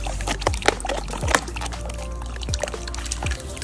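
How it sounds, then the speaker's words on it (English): A homemade solar-powered pond aerator releases bubbles into water, giving a steady close gurgling and bubbling with a few louder plops and splashes. "Now it was time to test out if my homemade solar powered aerator actually worked."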